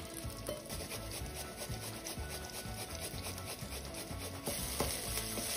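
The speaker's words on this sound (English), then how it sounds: "So while the onion and ginger and garlic fries" Chopped onion, chili, grated ginger and garlic fry in a pan with a soft continuous sizzle, overlaid by close stirring and scraping sounds.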